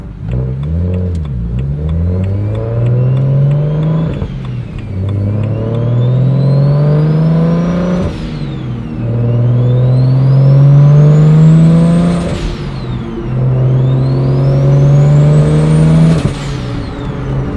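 A BMW 1M clone fitted with an N54 single turbo kit revs hard and loud up close, climbing through four rising pulls in a row, each cut off by a sudden pitch drop before the next surge, with no talking.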